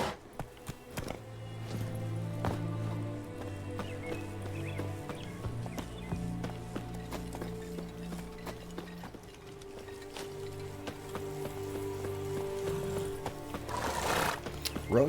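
Geralt's horse Roach hoofs along in The Witcher 3 over sustained game music, with scattered hoof clops and a loud whinny near the end.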